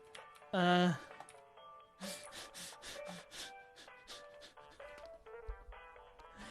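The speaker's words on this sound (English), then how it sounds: "Weirdly percussive sawing." Weirdly percussive sawing from a block-building video game comes as a quick series of sharp, rhythmic scraping bursts, fairly faint, with a brief voice-like tone near the start.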